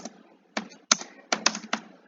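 Keystrokes on a computer keyboard while entering C++ code come as close, crisp taps in an uneven rhythm, about half a dozen clicks with short pauses, no speech.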